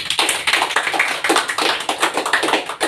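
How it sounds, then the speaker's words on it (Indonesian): Classroom applause for two students, a burst of many hands clapping close and dense, steady for about three seconds before cutting off, with no talk over it. "Beri aplaus kepada Adit dan Dea."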